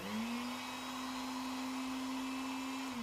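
A blender with a French motor runs on a bench test, giving a steady, even motor hum with a constant pitch and a high whirring edge that holds for about three seconds before dropping slightly as it cuts off.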